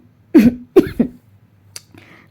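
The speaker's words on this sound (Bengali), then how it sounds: "ব্যথা হয়ে গেল, কাশি এসে গেল" Three harsh coughs in quick succession from a sore throat after long voice-over recording, close and loud, followed by a faint click and soft background noise.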